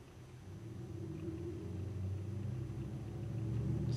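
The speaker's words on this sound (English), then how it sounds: "Sort of a truck going up and down our street out here." A truck drives along a residential street outside, a steady low rumble that slowly swells louder as it approaches, heard alone without speech.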